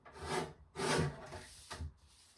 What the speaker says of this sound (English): So I'm going to take it over to my guillotine trimmer and just trim that just ever so slightly.